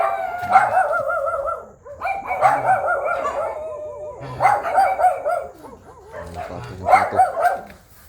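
A dog barks repeatedly in short bursts, fairly close and loud, with a few whiny yips between the barks.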